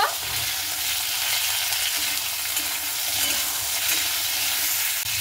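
Green beans fry steadily in hot oil with salt while being stirred, giving a loud, continuous sizzle with soft scraping from the spoon throughout; no one speaks.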